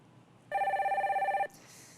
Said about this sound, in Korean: 첫 번째 전화 상담 연결 바로 해볼게요